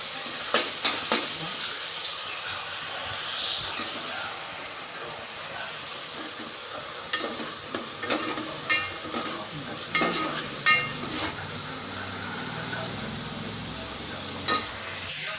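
Tomatoes and masala with chopped onions frying in a pan for vegetable biryani, a steady sizzle carrying on throughout with scattered sharp clicks and scrapes from stirring, close up with no talking.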